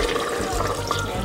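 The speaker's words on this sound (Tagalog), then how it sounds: "Ngayon lagay muna natin yung tubig" Water pours steadily into a cooking pot for beef bulalo, a continuous splashing gush that runs close and fairly loud with no talk over it.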